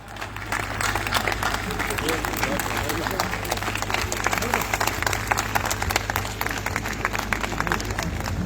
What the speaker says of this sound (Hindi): आप लोग खड़े होकर जोरदार तालियों से मैम को